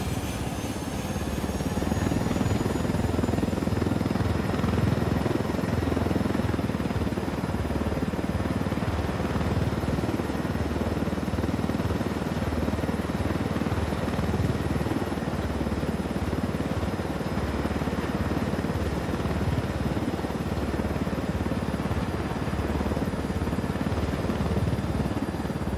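Chopper in a video game flying with a constant heavy rotor thump and engine roar, loud and close, sustained without pause.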